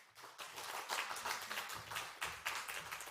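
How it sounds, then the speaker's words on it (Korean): A church congregation applauds as a missionary comes forward during a Sunday service, with a steady wash of clapping from many hands, heard from a moderate distance with no talk over it. "우리 선교사님 나오실 때 박수 부탁드리겠습니다"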